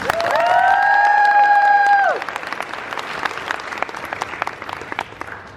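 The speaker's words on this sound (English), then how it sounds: "let's have one more round of applause for our panelists here" A loud tonal whistle-like sound gives way to a convention panel audience clapping, the applause continuing steadily and then gradually thinning out.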